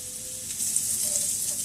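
Ground turkey keto meal prep with food cooking in butter in a frying pan, a steady close sizzle and crackle throughout, no voices.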